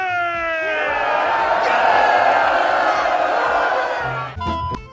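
A crowd of film extras cheers and whoops in a movie scene, a loud, sustained roar of many voices that fades near the end.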